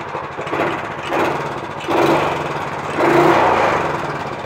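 A Sentar motorcycle engine starting from cold and running roughly, its loud, uneven mechanical drone surging in two stronger bursts as it struggles toward idle, with no talk over it.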